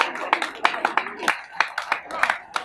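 Scattered clapping from an audience at a social media hangout in Enugu, a dozen or so distinct sharp claps in an uneven rhythm, moderately close, with some voices murmuring underneath.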